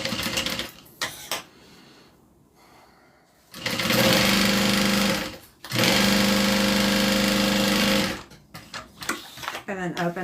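A sewing machine top stitches a fabric bag in two steady running bursts, close and loud, separated by a short pause, with quieter handling and a voice before and after.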